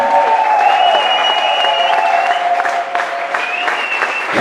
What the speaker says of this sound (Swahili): Pigia Bwana Yesu makofi mazuri tena zaidi